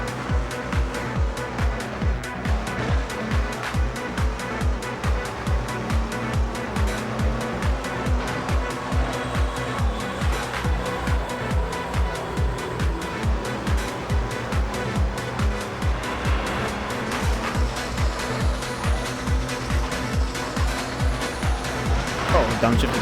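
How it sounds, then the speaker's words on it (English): A car in the racing game Midnight Club 3 on Xbox revs and downshifts hard while it drifts through a corner, its engine roaring in rhythmic surges with tire squeal over a continuous, loud drone. "Downshifted to slow down and I drifted out a bit."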